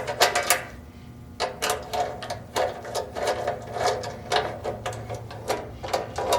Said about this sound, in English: we'll continue to tighten them with a screwdriver